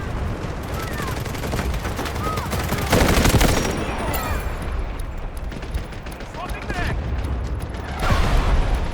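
Heavy exchange of gunfire in the video game Delta Force, with rapid automatic bursts and booming blasts that surge louder in waves, close and intense, with voices mixed in.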